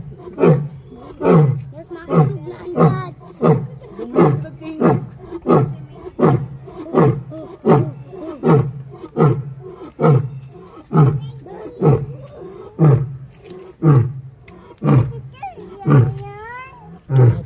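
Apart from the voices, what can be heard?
tiger roaring at wildlife park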